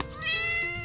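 A cat gives a single clear, drawn-out meow, close and fairly loud, rising slightly in the middle before it trails off, with no other sounds around it.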